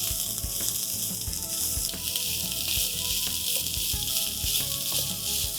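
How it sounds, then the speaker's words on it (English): Soya samosa filling with chopped dill and green peas sizzles steadily in a hot pan while being stirred, a continuous close frying hiss with soft scraping bursts throughout. "Let's mix this well."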